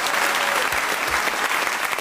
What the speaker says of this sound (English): we applaud now because the whistle went